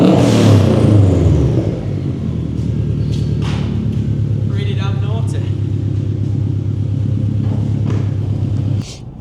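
A turbocharged Subaru Brat with a WRX turbo engine idles with a deep, steady rumble close by, with faint knocks and brief noises over the throb.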